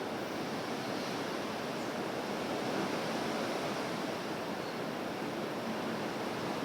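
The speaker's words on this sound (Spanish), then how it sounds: "como las olas del mar que van y vienen" Steady ocean surf washing in and out, a continuous broadband roar of sea waves at even loudness with no voices.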